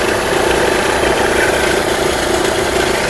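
A 2016 Hyundai i20 Magna diesel engine idles steadily with a constant low rumble and even vibration, close by and fairly loud, with no voices.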